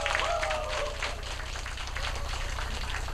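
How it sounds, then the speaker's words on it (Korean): Audience applause at a party chapter chairman's inauguration and talk concert, steady moderate clapping from a crowd in a hall, with a brief voice near the start. "사람 수에 비해서 박수 소리가 너무 적은 관계로 한 번 더 인사 올리겠습니다."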